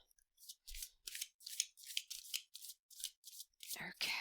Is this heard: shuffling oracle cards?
yes